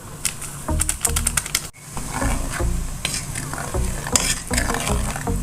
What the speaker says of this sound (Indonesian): Kita aduk-aduk menunggu mendidih ya Bunda.